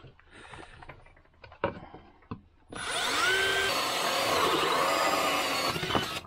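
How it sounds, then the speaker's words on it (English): Some knocks and clatter, then a power drill starts up and runs loudly, its whirring pitch shifting as it bites in. "No problems with that drill"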